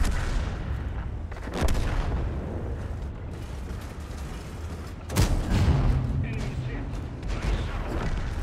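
Tank cannon fire and battle noise from World of Tanks, with a Strv K tank: a constant rumbling bed broken by two heavy booming shots with decaying rumble, and a voice talking underneath.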